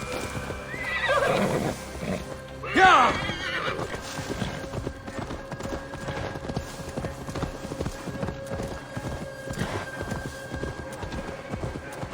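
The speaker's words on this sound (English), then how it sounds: "now to deliver Magni his horse." A horse neighs loudly near the start while hooves clip-clop in a steady trotting rhythm over background music in Assassin's Creed Valhalla.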